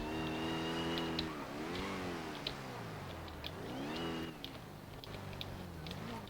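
A Porsche engine revs hard during a police chase in a roleplay driving game, rising and falling in pitch as it shifts through gears, moderately loud and steady with no voices.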